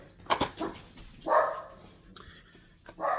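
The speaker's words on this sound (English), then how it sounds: "Dogs." Dogs barking nearby in a few separate short bursts with quiet gaps between them, plus a brief whimper-like yip.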